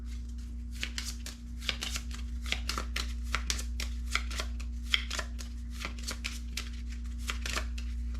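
Cards for the Stuka Ace board game are shuffled by hand in a rapid run of soft, crisp riffles and slaps. They sound close against a steady low electrical hum, with no talking.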